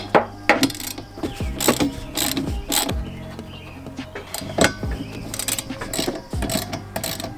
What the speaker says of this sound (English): I'm gonna get a socket and take these arms off